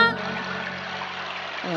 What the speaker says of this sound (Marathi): तो कमंडलू पाण्याने भरला